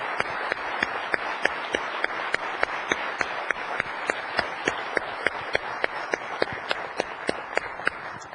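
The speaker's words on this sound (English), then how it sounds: "I think we ought to give all of the participants another incredible round of applause" An audience at IBM's GIO Africa closing session applauds the participants, a dense crowd clap with sharper individual claps sticking out in a steady rhythm, moderately loud and sustained throughout.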